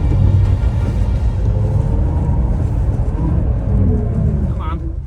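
Audi RS car on a driving-experience track during a drifting session, a loud continuous engine rumble and road roar that stays steady throughout, with speech over it.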